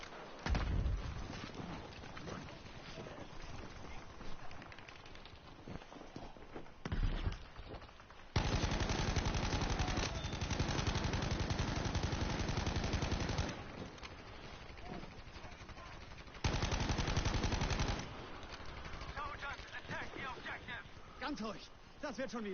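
Near-continuous machine-gun and rifle fire crackles through the war shooter Frontlines, with long dense bursts and brief lulls, loud and close, while a player talks over the shooting.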